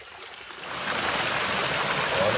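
A forest stream flows in a dense, continuous rush of water that swells in volume after the first second and then holds steady and close.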